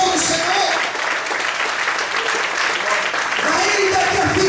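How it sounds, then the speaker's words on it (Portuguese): Congregation applauding during an evening church service, a steady wash of clapping with voices and singing or speech running over it throughout. "Aplauda o Senhor."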